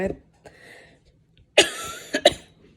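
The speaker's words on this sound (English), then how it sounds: "sorry, I'm coughing and my throat is kind of messed up" Someone with a sore throat coughs a few times, sharp bursts with a brief throat-clearing rasp in between, close and fairly loud.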